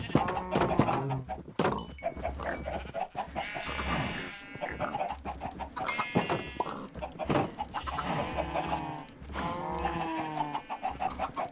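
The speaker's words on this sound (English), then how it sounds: "Hello, chickens." Chickens clucking in a farming video game, with repeated close bursts of clucks and squawks throughout, and other farm animal calls such as goat-like bleats mixed among them.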